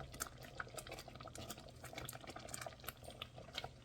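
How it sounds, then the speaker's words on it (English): Mulberry jam bubbling in a pot, a continuous close, quiet stream of small irregular pops and thick blips as it boils. "I don't want to boil it too much that I burn it"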